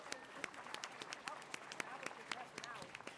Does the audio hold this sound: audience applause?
yes